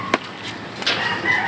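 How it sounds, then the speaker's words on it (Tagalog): Backyard chickens clucking and calling in a rural yard, a few short squawks and a drawn-out cackle, close and clear over steady outdoor background hiss. "Makukulit yung mga alaga nating manok."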